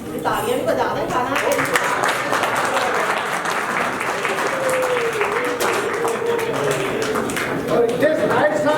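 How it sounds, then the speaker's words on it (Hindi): A crowd at a Gilgit Baltistan Day celebration applauds steadily, a dense continuous clapping that carries on throughout, with voices talking underneath. "तालियां भी बजा दें"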